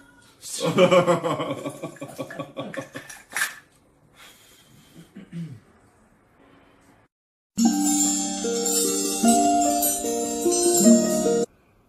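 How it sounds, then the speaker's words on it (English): A domestic cat wearing a Santa hat meows several times in quick succession near the start, with a few softer calls and breathing-like sounds after, then music-like tones take over toward the end. "I bought this cute little Santa hat for my beautiful cat Penny"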